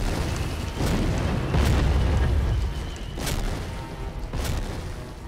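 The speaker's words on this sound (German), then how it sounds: "Die blöde Artillerie." Artillery explosions from the World War II video game D-Day thud one after another as deep, rolling booms. Several impacts land a second or two apart over constant low rumble.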